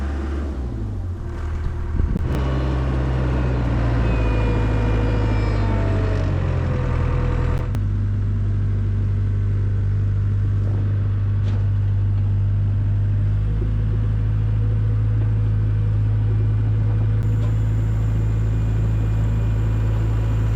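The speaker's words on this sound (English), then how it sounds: "I got to get the skid steer real quick." A skid steer's heavy diesel engine runs steadily nearby on a cattle farm, rumbling low with occasional revs and clanks, then settles into a constant idle.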